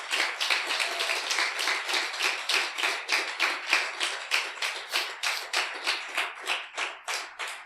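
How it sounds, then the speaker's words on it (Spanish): A church congregation claps in a steady, rhythmic beat, the claps sharp and evenly spaced, loud and continuous throughout with no talking over them. "Dele un aplauso al Señor, hermano."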